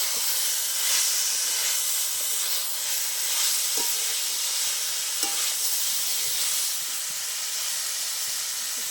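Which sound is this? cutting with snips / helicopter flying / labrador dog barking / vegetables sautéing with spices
vegetables sautéing with spices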